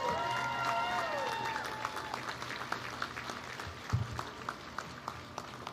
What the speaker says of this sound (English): One more round of applause for this great crew and this great ship.